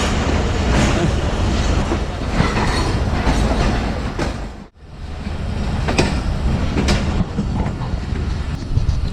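Jaffar Express passenger train running from Rawalpindi toward Lalamusa, a steady loud rumble of wheels on rails with faint clickety-clack throughout, a brief dip in the middle, then the roar resumes.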